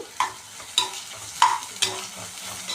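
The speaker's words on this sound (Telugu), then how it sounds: "దీన్ని మొత్తం బాగా వేగనివ్వాలి" Ginger garlic paste frying with onions in oil in a pan for butter masala egg curry, with a low sizzle under four distinct spatula scrapes against the pan, close and clear, no voices.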